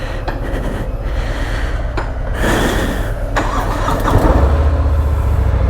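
A Harley-Davidson Fat Bob motorcycle engine starts and runs, a loud close rumble that settles into a steady throaty idle and swells with a few revs.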